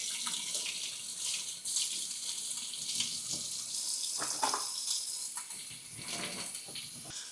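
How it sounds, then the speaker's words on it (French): Tap water runs steadily while dishes are rinsed beneath it, with intermittent splashes and faint clinks breaking the constant flow. "je rince la vaisselle."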